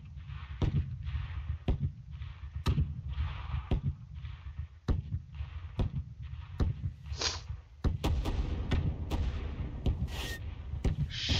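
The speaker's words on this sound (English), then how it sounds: "Let's go for a mortar strike. Station, this is squad lead. We need artillery on this location." A mortar artillery barrage in Garry's Mod, with a string of sharp, booming impacts landing at irregular intervals over a low rumbling bed, some hits louder and closer than others, no talk.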